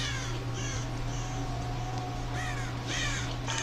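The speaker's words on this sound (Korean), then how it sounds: "까마귀 그만 울어 무섭다고" A crow caws several times in harsh, repeated bursts over a constant low electronic drone in the horror game Dead by Daylight, with short gaps between the calls.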